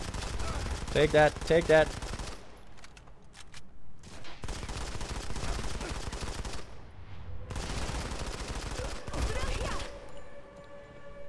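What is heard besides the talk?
gunfire in the video game Modern Combat 5: Blackout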